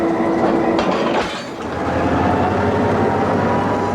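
Freight cars rolling and clanking together in a rail yard, a loud continuous rumble of wheels on track with a sharp metallic bump and clatter early on, no voices.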